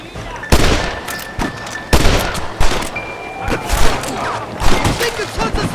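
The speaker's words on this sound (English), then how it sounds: "They're shooting down on us!" Repeated gunfire from enemies shooting down from a clifftop in Red Dead Redemption, loud bursts and single cracks recurring every second or so, with speech mixed in between shots.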